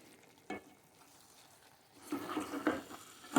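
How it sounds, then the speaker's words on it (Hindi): Fenugreek and potatoes fry over high heat, giving a soft sizzle. A stirring scrape comes in briefly, then the frying grows louder and busier toward the end. "भूनते जाएंगे"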